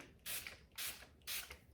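Three quick hissing bursts of a Naiad facial mist spray bottle, evenly spaced about half a second apart, close and crisp in a quiet room.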